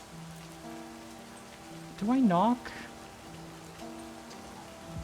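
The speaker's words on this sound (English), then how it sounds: "You shouldn't stand in the rain any longer." Steady rain patters in the video game Livber: Smoke and Mirrors, a constant wash of drops under a brief spoken voice and quiet background music.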